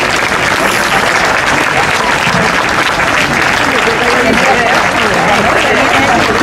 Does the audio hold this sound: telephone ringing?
no